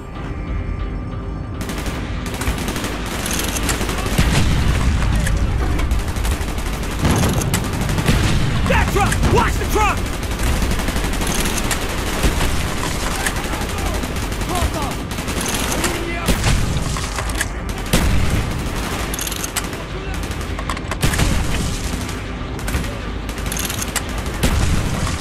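Dense gunfire from the Black Ops Girls Frontline campaign video game, with near-continuous bursts of automatic fire and booming explosions throughout, while voices call out over the combat.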